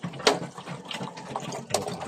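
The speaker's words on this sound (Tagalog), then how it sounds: "Lagyan natin ng tubig para may mainom sila." Water splashes steadily into a pigeons' drinking container in a continuous pour, with a couple of sharper splashes standing out.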